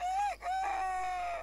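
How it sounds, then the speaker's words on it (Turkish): A rooster crows in The Sims 4 game, a clear, sustained call with a brief break partway through. "Bak bu horoz ötecek. Saat 5 ötecek bak."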